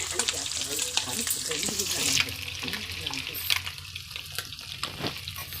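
Eggs fry in a pan with a bright, hissing sizzle that swells and fades, mixed with watery splashing and occasional clatter close by.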